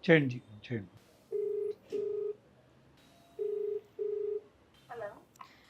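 A telephone keypad dialing out for a call: four faint electronic beep tones in two spaced pairs, with a few brief spoken words before and after.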